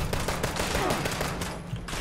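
Gunfire in Fallout 76 Wastelanders: rapid, continuous bursts of shots with a dense rattling texture over a steady loud background, no talk.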